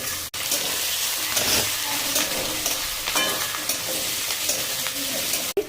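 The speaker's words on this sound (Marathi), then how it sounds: "आणि मग आता चांगलं परतून घ्यायचं" Onion, chili, peanuts and dal are sautéed in oil in a pan, a continuous close sizzle with scraping stirring strokes and a couple of sharp clicks.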